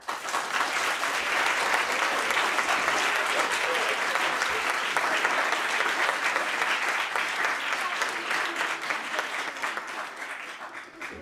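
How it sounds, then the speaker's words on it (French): A seated audience at a live reading show gives sustained, dense applause that holds evenly for several seconds and then gradually thins toward the end, with a faint murmur of voices mixed in. "je vais vous demander de faire un tonnerre d'applaudissements"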